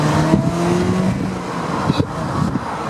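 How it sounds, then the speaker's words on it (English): Rental car engine held at the rev limit while driving, a loud, close, steady droning engine note with a few brief bumps and knocks. "so you're just driving along at a rev limit, the engine revving away"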